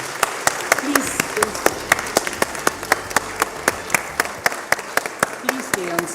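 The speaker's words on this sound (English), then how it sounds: "but a round of applause" A leadership summit audience in Bengaluru gives a round of applause, heard as sparse, fairly regular individual claps ringing out close by over a murmuring room.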